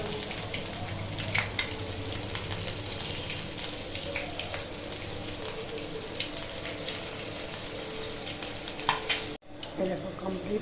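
Egg chops coated in biscuit crumbs frying in oil, a steady close sizzle with occasional pops that continues throughout and is cut off briefly near the end.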